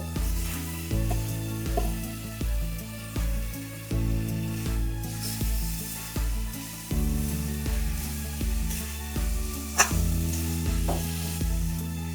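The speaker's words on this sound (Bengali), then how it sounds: "টমেটো গুলো দিয়ে দেবো।" Tomatoes tossed into a pan for a tangy spicy thin fish curry sizzle and fry under repeated stirring, a continuous close crackle with a steady rhythmic pulse running beneath it.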